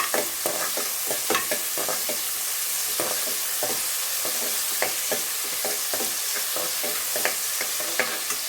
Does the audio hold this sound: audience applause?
no